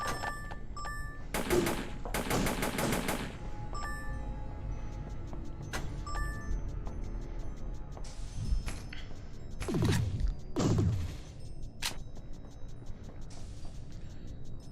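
Kinetic weapon gunfire in the video game Vortica, sharp bursts and rapid clattering shots scattered across the passage, some in quick runs, over a low game background.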